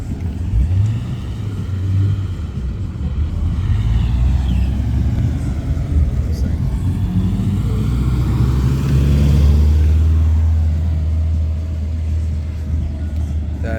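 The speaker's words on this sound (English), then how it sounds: "Oh, look at that Corvette back there." Engine rumble from a Corvette and other traffic rolls by steadily, swelling louder toward the middle, a low continuous drone with no talk.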